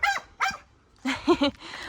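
A dog barks a few times close by, two sharp barks then a quick cluster of three, loud and alone.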